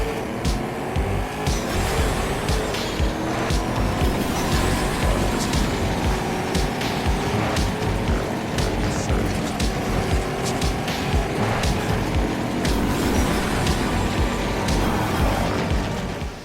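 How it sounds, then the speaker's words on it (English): Arcade racing cars in the video game Trackmania Turbo roar continuously and loudly, with engine whine, tire noise and sharp impacts all layered into a dense, unbroken wash of game sound. "it's time for Ubisoft's Trackmania Turbo, and we all love a cool arcade racing game"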